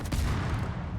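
Naval gunfire in the World of Warships game rolls out as one dense, booming salvo, a heavy low rumble sustained for the whole second and fading slightly at the end.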